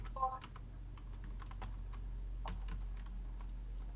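Fingers type a player name for Agar.io on a computer keyboard, giving quick irregular clicks close by, with a soft voice briefly heard in the background.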